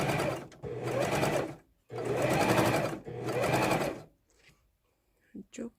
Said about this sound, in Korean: 저는 지금 이제 커버 그냥 사용해서 지금 박음질 해줄게요.